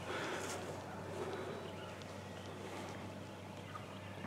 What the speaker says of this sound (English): Dude, that's a giant bird.